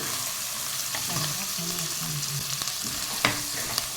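Mutton with chilli powder and salt sizzles loudly in a pan while it is stirred, the steady frying crackle punctuated by scraping and a couple of sharp knocks of the spoon against the pan.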